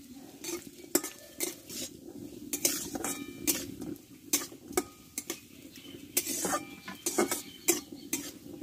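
Coconut pieces fry in oil in a pan while a utensil repeatedly stirs and scrapes, giving a steady run of clinks and scrapes over a soft sizzle, close to the microphone.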